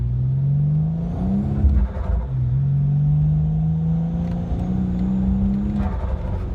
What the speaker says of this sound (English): Oh, she's breaking traction again.